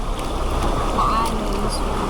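A boat rides choppy sea waves near rocky shores on an El Nido island tour, with a steady broadband rush of wind and water running unbroken through the short stretch.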